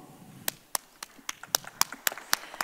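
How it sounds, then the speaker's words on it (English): Separate handclaps ring out at a conference gathering in Dubai, one clap after another at an uneven pace, crisp and fairly close against a quiet room, sounding like a small number of people clapping. "give them all a big round of applause"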